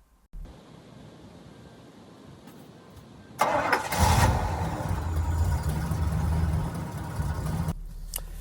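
A 1969 Pontiac Grand Prix's 400 cubic-inch V8 cranks and catches, then settles into a steady, smooth idle. It is fairly close and runs alone without voices.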